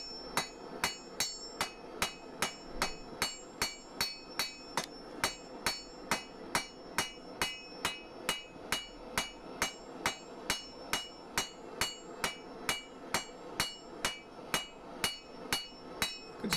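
Steady, evenly spaced hammer blows ring out on hot steel as a blacksmith forges a sgian dubh knife blade, about two strikes per second, close and alone.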